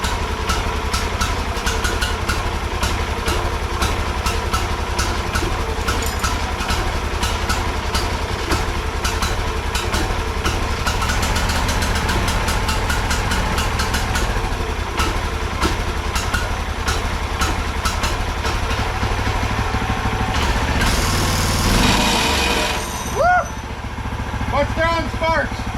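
A gas-powered motor started with a pull cord and left running in a metal fabrication shop, a steady loud mechanical drone filling the whole stretch, with people talking over it and a brief clatter near the end.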